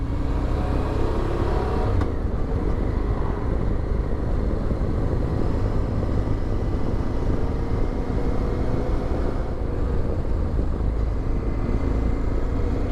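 A loaded adventure motorcycle cruising the Cherohala Skyway, giving a continuous loud engine drone mixed with heavy wind rush, steady throughout with no talk.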